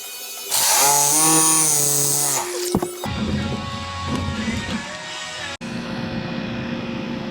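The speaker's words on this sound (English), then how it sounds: "I'll just cut them off with the Sawzall" A Sawzall reciprocating saw cutting through metal cart legs gives a loud, close, buzzing whine that runs for about two seconds. A rougher grinding cut follows, continuing steadily to the end.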